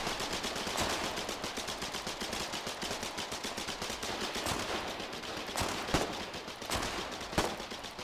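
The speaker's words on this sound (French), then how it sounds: "Je crois qu'ils ont mis des mitrailleuses en batterie." Machine gun fire in a video game: rapid, steady bursts of automatic shots rattle throughout at moderate loudness, with a few sharper, louder cracks standing out near the end.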